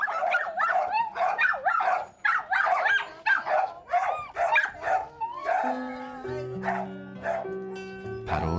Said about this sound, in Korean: 그런데 갑자기 짖기 시작하는 개들.